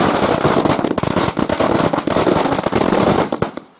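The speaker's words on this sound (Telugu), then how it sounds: "స్థానికులు టపాసులు పేలుస్తూ సంబరాలు చేసుకున్నారు" Firecrackers bursting in a local street celebration in Medak district, Telangana: dense, continuous loud crackling and popping bursts, near and sustained, ending abruptly.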